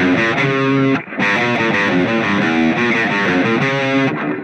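A heavily distorted electric guitar plays a chugging riff, loud and close, with one brief break before it continues.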